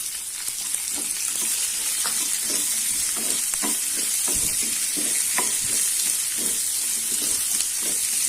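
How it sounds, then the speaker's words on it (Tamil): Sliced big onions and curry leaves sauté in hot oil in a pan for Chettinad-style spicy chutney: a steady loud sizzle with scattered stirring scrapes and pops throughout, no voices. "வெங்காயம் கொஞ்சம் நல்லா வதக்கிக்கலாம்."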